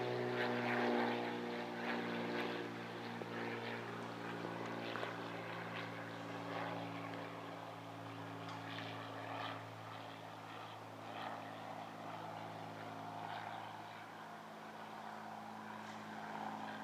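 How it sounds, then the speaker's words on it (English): Propeller airplane circling low over a house, its steady droning engine tone rising and falling slightly as it banks through a sharp turn, continuous and fairly close with no talking. "Why are the planes doing circles over my house?"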